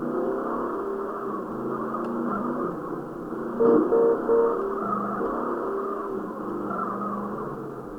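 A car in GTA San Andreas driving and sliding, a steady muffled engine drone with a brief louder burst midway, no voices.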